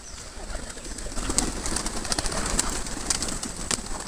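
Pigeons cooing at feeding time, a continuous chorus of soft throaty coos close by, with light fluttering and rustling mixed in.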